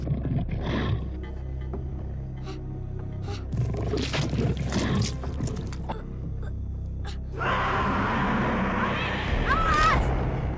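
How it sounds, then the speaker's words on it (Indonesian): A fire bear in an adventure video game roars loudly, with rough growls and gasps early on and a sustained roar near the end, mixed with game effects and talking voices. "Beruang. Beruang api."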